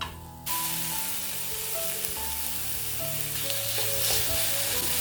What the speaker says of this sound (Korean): 소고기를 팬에 넣고 볶아줍니다.